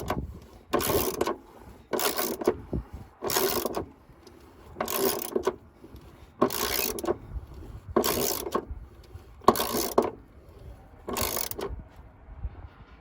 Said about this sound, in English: Right now I'm just gonna snug them all up pretty good, and then I'll run around and torque them all down.